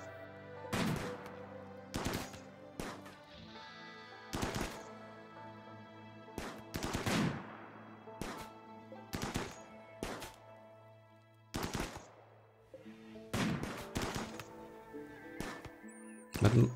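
Gunfire in the colony game RimWorld, a series of sharp, separate shots with irregular gaps between bursts, set against background music.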